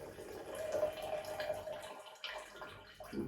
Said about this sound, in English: Now I'm pouring the coffee in.